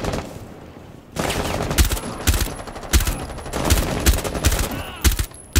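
Gunfire in the multiplayer video game Rainbow Six Siege comes in loud, rapid bursts of automatic shots, spread across several seconds after a brief quieter start, with a player talking in between.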